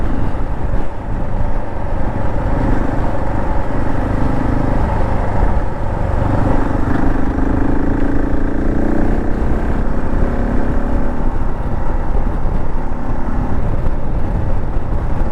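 A Husqvarna 701 motorcycle rides along scenic roads in Austria, its engine a steady, continuous drone mixed with constant wind rush across the microphone.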